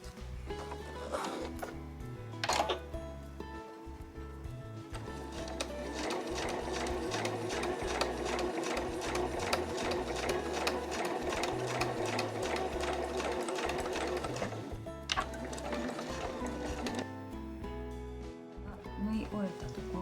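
A sewing machine stitches a zipper pouch made from Marimekko fabric scraps, running in short bursts and then one long, rapid, steady run of close mechanical needle strokes, with a voice briefly heard at times.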